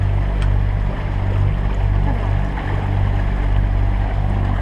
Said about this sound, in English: Hopefully we can turn off the engine in a couple hours.